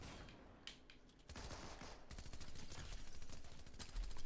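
Submachine gun fire in a Fortnite match: after a sparse opening, rapid automatic bursts start and keep rattling steadily for several seconds, fairly close and loud, with no talk.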